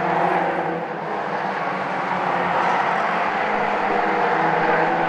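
Mazda MX-5 race cars at Silverstone, heard from trackside, roar past in a dense, sustained whir of engine noise with a slight dip and swell, no talk over it.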